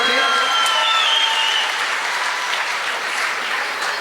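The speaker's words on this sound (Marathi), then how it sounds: "एकदा अर्शितासाठी एकदा जोरदार टाळ्या होत्या सर्वांनी." Loud, sustained clapping from a crowd of students, dense and steady throughout, with a faint whistle-like tone early on and some murmur underneath.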